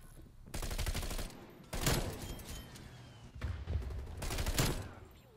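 Bullfrog submachine gun firing in Black Ops Cold War, with several loud sustained bursts of rapid automatic fire broken by short pauses, heavy thumping impacts running through the bursts.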